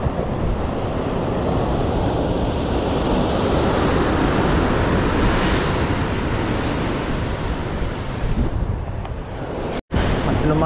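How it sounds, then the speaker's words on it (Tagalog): Ocean waves surge off Siargao Island in a continuous loud roar, heavily mixed with wind buffeting the microphone, which cuts out for a moment near the end. "Mas lumalaki na yung mga alon mga master."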